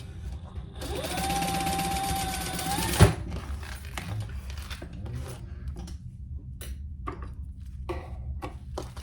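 A sewing machine runs in a steady whir for about two seconds while basting a seam on a fabric wristlet, then stops with a sharp click, followed by quieter handling and rustling of fabric.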